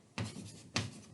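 Pen strokes on paper while writing by hand, two quick scratchy bursts close by in a quiet room.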